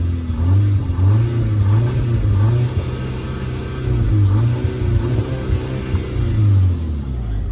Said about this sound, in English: time to hear this engine.